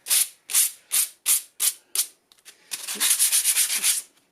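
Clogged sandpaper used on old painted fibreglass is rubbed against itself, giving six loud, evenly paced scratchy strokes, then a brief pause and a faster run of shorter rasping rubs, close and alone.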